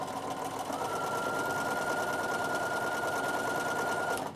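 A sewing machine back-stitching soft braid onto a cotton table runner, running in a steady, fast, even whir close by, with no talking, before stopping at the end.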